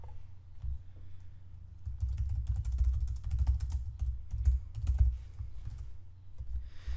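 Keys clatter on a computer keyboard as text is entered in Windows 10, an irregular run of close, crisp taps that starts after a quiet moment and continues for several seconds.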